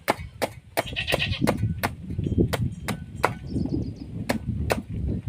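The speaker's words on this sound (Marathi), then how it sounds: "आपण अशी बघा बारीक बारीक कापून घ्यायची" Pumpkin being chopped into small pieces for goat fodder gives about a dozen sharp, close knife strikes at an uneven pace, while goats bleat nearby in the background.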